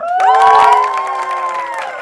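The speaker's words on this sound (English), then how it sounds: "Can I get some noise from the crowd?" A studio crowd at a kids' competition show cheers and shouts in a brief, loud burst of voices that fades slightly over two seconds.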